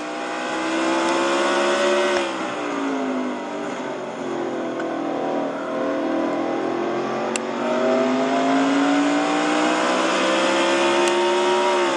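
A race car engine in the Castrol GTX Cup Series racing game revs hard down the straightaway, a loud, sustained high-pitched whine climbing in pitch with a brief shift dip, continuous and close with no talk.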